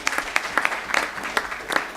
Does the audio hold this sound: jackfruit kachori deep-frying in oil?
no